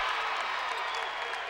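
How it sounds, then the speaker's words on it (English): A basketball crowd at a men's college game roars loudly and steadily, a dense wash of cheering and applause filling the arena from start to finish. "the crowd is hopping right now, being loud"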